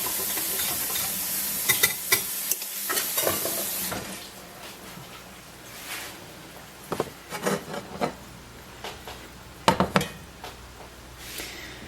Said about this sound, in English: now I'm just going to add some milk to this and whisk it up so that it's all equal